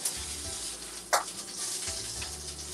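Salmon fillets fry in a pan for seafood lasagna roll-ups, giving a steady close sizzle with a brief scrape or clatter near the middle and no one talking.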